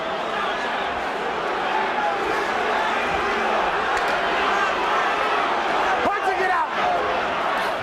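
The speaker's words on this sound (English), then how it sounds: "An enormous crowd here at the Hilton in Las Vegas." A large crowd at a boxing match at the Hilton in Las Vegas roars steadily and loudly throughout, a constant dense murmur under a commentator's talk.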